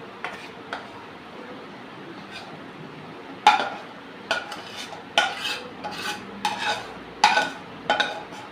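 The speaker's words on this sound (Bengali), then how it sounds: "তা আমি থালার মধ্যে ঢেলে নিচ্ছি।" Cooked vegetable curry is scraped from a pan onto a plate with a spoon, making a series of distinct metallic clinks and knocks over a quiet background.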